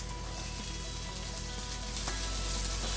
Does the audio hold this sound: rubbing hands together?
no